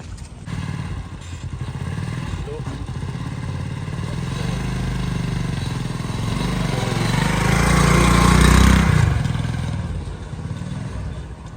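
A motorcycle engine runs in a village setting, a rough low rumble with clattering that builds steadily, peaks loudly as the bike draws near or revs, then eases off, with no talking.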